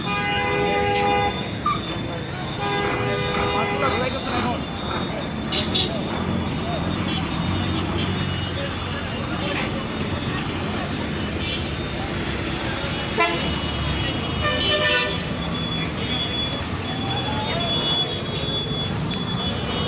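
A sudden heavy traffic jam on a Rajshahi street during a student protest, with repeated car and bike horns tooting over a constant roar of idling engines and crowd noise, and voices talking throughout.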